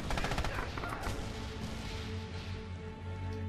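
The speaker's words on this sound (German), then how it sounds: "Er liegt unter Sperrfeuer." Sustained barrage of gunfire in Red Orchestra 2: Heroes of Stalingrad, rapid machine-gun bursts and rattling shots in a dense, continuous stream that eases slightly toward the end.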